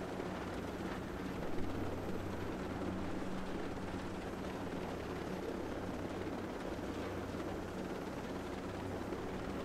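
A helicopter in the video game Ghost Recon Breakpoint gives a steady, close rotor drone with a low throbbing hum, constant and loud for the whole stretch, with no voices over it.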